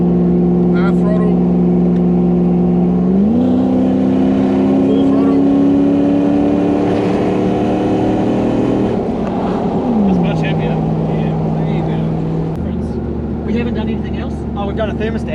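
Toyota Hilux with a 1UZ engine and automatic, driven at about 80 km/h at half throttle, its V8 drone rising in pitch through gear changes, loud and close, with people talking over it.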